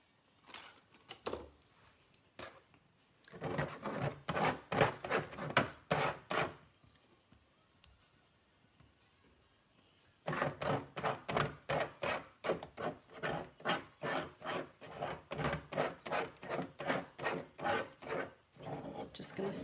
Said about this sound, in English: Just going to scrape all these bits off.